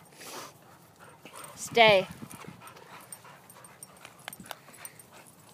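A dog gives a brief, high whimpering whine mid-clip, with a person speaking briefly and some outdoor rustling around it.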